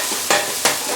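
Soy sauce being stirred on a Blackstone griddle while cooking hibachi, a continuous hiss of sizzling with two quick scraping spatula strokes, close and loud, no voices.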